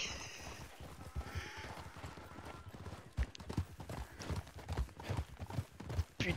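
A donkey trotting in the RedM Western role-play game, a quick, steady clip-clop of hooves that turns sharper and more irregular, heard close with a faint wind-like background.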